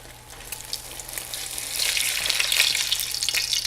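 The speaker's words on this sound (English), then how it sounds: "we're gonna slide it in that fryer" Slice of Tonga Toast frying in hot oil, a steady sizzle and crackle that swells louder midway and keeps bubbling close by, with no talking.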